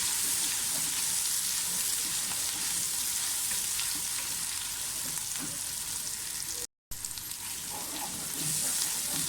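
Loud, steady sizzling and crackling of cumin seeds frying in hot oil, continuous throughout with a brief dropout near the end.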